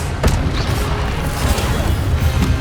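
A fire spell going off in Hogwarts Legacy gameplay, a deep rumbling whoosh of flame with a low booming burst near the start and a steady roaring body that holds for the rest, loud and with no voices.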